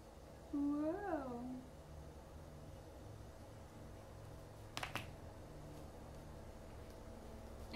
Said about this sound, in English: I can hear the cat meowing.